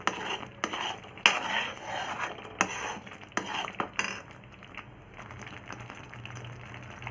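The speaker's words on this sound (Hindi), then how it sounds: "बस धीरे धीरे चलाते रहें इसको।" A spoon scrapes and clinks against a pan as thickening malai is slowly stirred while it cooks down into ghee, with irregular metallic taps and scrapes over a soft bubbling simmer.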